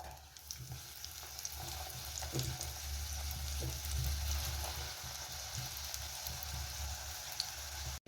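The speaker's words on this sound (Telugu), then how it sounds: "ఒకవైపు వేగిపోయినట్లుంది రెండో వైపు వేస్తున్నాను" Potato and carrot snack frying in oil in a kadai, a steady close sizzle and crackle that continues without letup, with faint occasional stirring.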